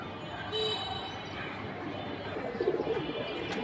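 Pigeons at a loft where breeding pairs are kept coo softly amid a dense background hum, a brief low call near the start and a short burbling coo later, faint and somewhat masked.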